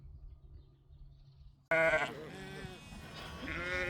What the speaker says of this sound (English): I'm getting my ewes in.